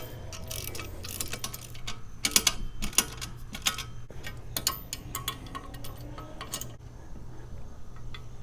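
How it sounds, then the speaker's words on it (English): A bike rack's bolts are tightened with the supplied tool and an 11/16 socket, making a steady run of small metallic ticking clicks in close, irregular bursts at moderate level. "So this is the tool they give you to tighten all these up."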